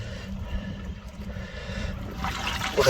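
Water runs steadily through a gold-prospecting sluice box in a creek bed, a continuous close trickling wash with low churning underneath, brightening and swelling slightly toward the end.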